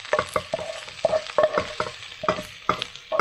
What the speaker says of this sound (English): Fried onions. Can't beat them.